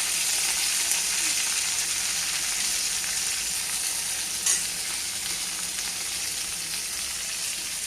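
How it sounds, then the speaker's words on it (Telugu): Chopped ivy gourd (tindora) frying in oil in a pan, with a constant bright hiss of sizzling and occasional soft scraping as the pieces are stirred; close and steady for the full eight seconds. "బాగా పైనుంచి కింద వరకు బాగా కలుపుకోవాలండి"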